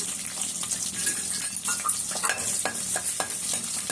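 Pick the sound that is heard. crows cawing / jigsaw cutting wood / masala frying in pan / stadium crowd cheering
masala frying in pan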